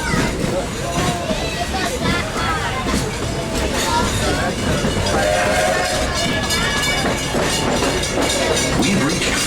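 Walt Disney World Railroad train rolling on its rails near Frontierland Station, a steady rumble with clickety-clack under constant crowd chatter and voices throughout.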